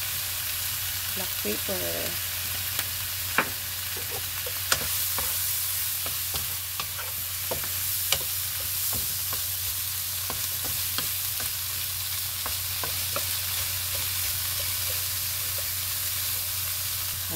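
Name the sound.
shrimp frying and being stirred in a pan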